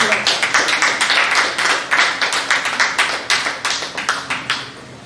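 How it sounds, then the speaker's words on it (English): Applause from a conference audience welcoming a speaker to the stage, heard as a run of steady, fairly loud claps from a modest group, evenly paced and slowly thinning toward the end. "let's welcome Mr. Godwin Adu-Afful with a round of applause."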